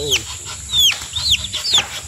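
A chicken clucks and squawks several times in quick succession, close and fairly loud, over faint background noise.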